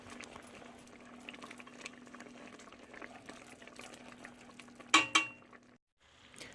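Pot of grits bubbling gently on medium-low heat, a soft steady simmer with faint popping, then a couple of sharper clinks near the end before a brief pause.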